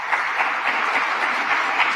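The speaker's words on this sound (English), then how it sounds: "Let's give a round of applause for" An audience at a public announcement about state police troopers and anti-crime funding in Rochester claps steadily, a dense, even wash of applause with no pauses.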